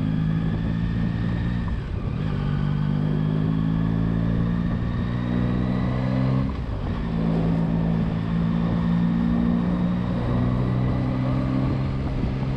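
Yamaha Tracer 9 GT motorcycle engine running steadily, a loud, continuous low drone with a slight dip in pitch around two and six seconds before it holds even again, with no speech over it.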